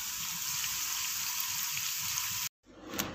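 Nendran banana chips deep-frying in hot oil give a steady, dense sizzle close up, cut off briefly near the end before the bubbling returns.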